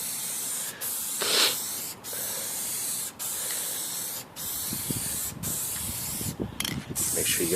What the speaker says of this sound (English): Alright, I'll also spray the fabric.